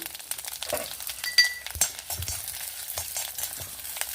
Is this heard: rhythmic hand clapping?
no